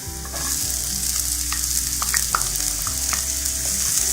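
Chopped onion lightly frying in a pan for a basic salsa sauce, a steady close sizzle with a low hum beneath and occasional soft stirring scrapes, no voices.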